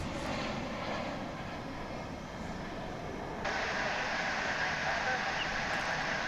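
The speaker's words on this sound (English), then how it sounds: "I wanted to make sure we got that MD-11 go up in the sky" An MD-11 jet takes off at DFW International Airport, a continuous broad engine roar that jumps louder and brighter partway through and then holds steady.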